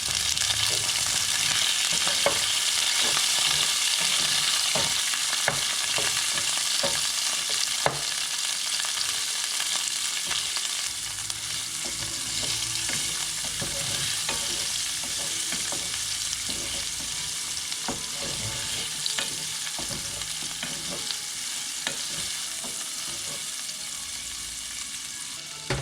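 Shrimp frying in a pan for palabok give a constant bright sizzle with small crackles and occasional utensil taps, steady and close for a long stretch.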